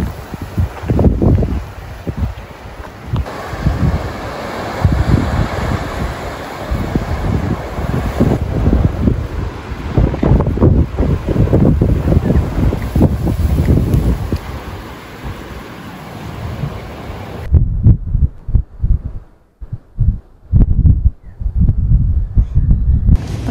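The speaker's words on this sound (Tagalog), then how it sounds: "Malakas ang hangin na." Strong wind roars and buffets the microphone continuously, with rustling, then drops off abruptly near the end leaving gusty, uneven rumbles.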